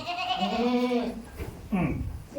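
A young goat kid on an organic farm gives two close, wavering bleats, the first long and the second shorter after a brief pause.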